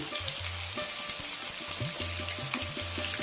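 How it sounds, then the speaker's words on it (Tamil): Tandoori masala coated fish frying in hot oil, a steady close crackling sizzle with popping bubbles throughout, no talking. "தந்தூரி மசாலா தடவின மீனை நம்ம வந்து ஆயிலில் சேர்த்துட்டோம் இது ஒரு பக்கம் நல்லா பொரியட்டும்"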